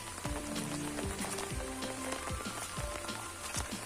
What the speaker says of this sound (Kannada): ಮಳೆ ವಾಪಸ್ ಶುರುವಾಯ್ತು.